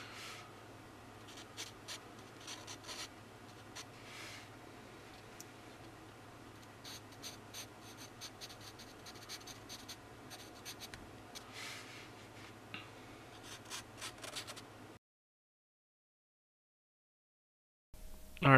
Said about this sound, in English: I roll the charcoal pencil in my hand to create those irregular lines